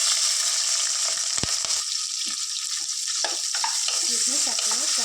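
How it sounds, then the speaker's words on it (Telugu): Onions and green chilies frying in hot oil, a steady broadband sizzle with a few stirring scrapes near the start, loud and close, with no speech. "ఆయిల్ హీట్ అయ్యాక ఒక టూ మీడియం సైజ్ ఆనియన్స్ ఒక టెన్ మిర్చి వేసుకుందాం"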